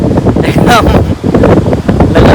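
Loud, steady wind roars and buffets the microphone throughout at a lighthouse, with rustling gusts and a voice speaking faintly underneath.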